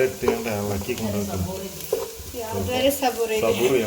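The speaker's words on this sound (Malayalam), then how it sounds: "ഇതേപോലെ നമ്മളിങ്ങനെ നല്ല മൂപ്പിച്ചെടുക്കണം. ഇതൊരു ഗോൾഡൻ ബ്രൗൺ കളർ വരെ എത്തും" Prawns for a prawn biryani frying in a pan until golden brown: a steady close sizzle with stirring scrapes over a tonal background sound.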